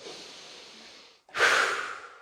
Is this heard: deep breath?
yes